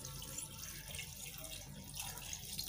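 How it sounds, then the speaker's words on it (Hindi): Water from a tap pours steadily into a cooking pot being filled with about eight cups for a beef and potato rice dish, a close, continuous splashing rush with no talk. "इसमें पानी जाएगा"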